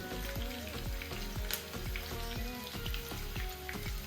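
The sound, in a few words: mustard seeds crackling in hot oil for dhokla tempering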